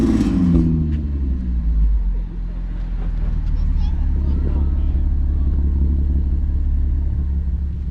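A supercharged car engine runs at its first start, giving a continuous deep rumble close by. Voices talk over the opening seconds, and no sharp rev stands out.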